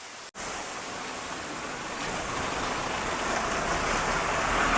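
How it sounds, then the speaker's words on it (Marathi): A small roadside waterfall at Jalav Ghat near Patan, Satara, pours with a constant hissing rush, steady and close with no voices. "छोटासा धबधबा आहे आणि रस्त्या कडेलाच आहे"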